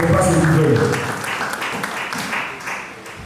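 A congregation at a prayer vigil applauds and acclaims the Lord, a loud burst of clapping and cheering that gradually thins, with a voice speaking over it.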